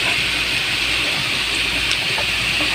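A small splash of water poured into a pan of sautéing baguio beans in a home kitchen in the Philippines, a steady close rushing pour with no talk.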